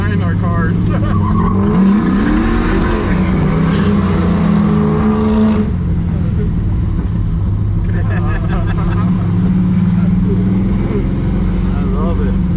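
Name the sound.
50 year old Chevrolet Camaro engine revving on a cruise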